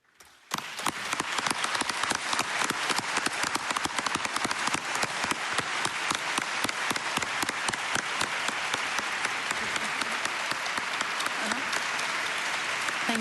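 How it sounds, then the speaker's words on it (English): Sustained applause from a live audience after an emotional personal talk, dense and steady, starting abruptly and continuing loud and even throughout. "This is your applause."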